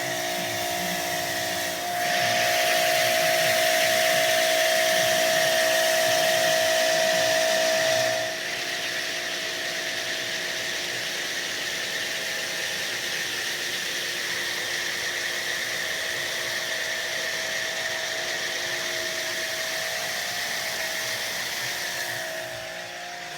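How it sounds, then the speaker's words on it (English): A 2000 psi electric pressure washer on a 25-foot hose sprays pre-wash foam through an MTM Hydro SG 28 foam cannon with a swapped orifice, making a steady loud hiss and whine that rises briefly before settling to a constant drone. "That is in itself hooked up to a 25-foot hose that's attached to a 2000 psi electric pressure washer."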